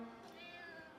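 A cat meows in one drawn-out, wavering call, close and fairly quiet, with no talking.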